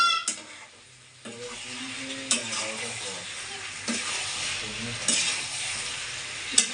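Chili chicken sizzles in a hot pan with a steady frying hiss while a spoon scrapes and stirs it in repeated strokes, with sharp clinks of utensil against the pan.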